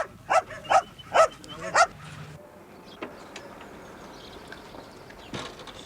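Dogs at home in Bolton in 1973 give four sharp, loud barks in quick succession near the start, then fall quiet, leaving only a faint room hush with small distant knocks.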